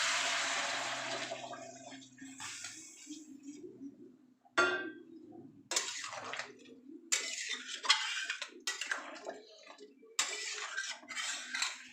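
Hot water poured into a pan of cauliflower and potato curry, a loud rushing splash at first, then a sharp sizzling burst followed by intermittent bubbling and clinks of utensils against the pan, close by.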